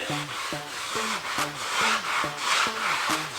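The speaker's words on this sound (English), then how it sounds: "And then I'll start at the top, kind of rub it in." Tire dressing being rubbed onto a BMW F30 tire makes a steady rhythm of squeaky rubbing strokes, about eight in a row, close and fairly loud.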